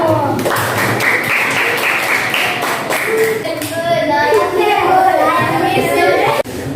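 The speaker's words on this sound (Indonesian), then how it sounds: "Oke, tepuk tangan untuk kelompok 1." A classroom of children claps for group 1, a dense, loud patter of many small hands lasting throughout, with children's excited voices rising over the applause.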